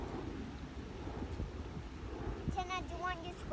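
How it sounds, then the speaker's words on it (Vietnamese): Strong wind buffets the microphone in a park in Canada during an outdoor meal, low rumbling gusts throughout, with people talking over it in the latter part. "Gió quá trời."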